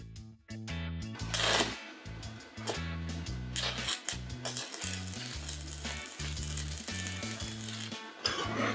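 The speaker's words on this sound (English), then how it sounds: "I'm just going to tack it with a couple of tack welds." Steel rod is tack welded for a reef anchor, giving crackling, sizzling arc bursts over a low electrical hum that switches on and off in short pulses.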